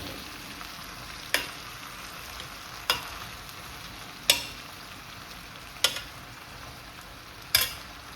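A spoon or spatula stirs vegetables, including carrots, in a frying pan for soup, giving about five short scraping clacks spaced roughly a second and a half apart over a quiet, faint sizzle.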